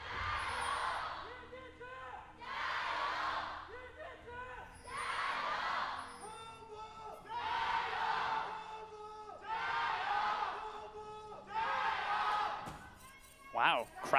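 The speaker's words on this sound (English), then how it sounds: "crowd is pretty damn intense right now. That was a great shouting from pretty much both sides" Esports arena crowd at an LPL League of Legends match, Edward Gaming vs. TOP Esports, shouting in loud, rhythmic waves of chanting from both sides, roughly six surging bursts with brief dips between them.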